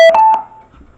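Tech1 Rage Bluetooth speaker powering on with a loud, bright electronic beep and a short tonal chime that rings briefly and fades, followed by near silence.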